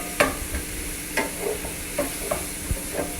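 Ground beef sizzles steadily in a stainless 10- or 12-inch skillet, seasoned with crushed red pepper, while a utensil scrapes and stirs it in several distinct strokes; close and fairly loud, with no talking.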